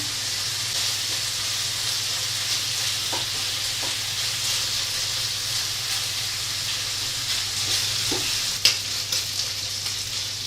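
Mushrooms and bacon fry in a pan for a quiche Lorraine, giving a steady, dense sizzle with a faint low hum beneath and a few soft stirring knocks, one sharper clink near the end.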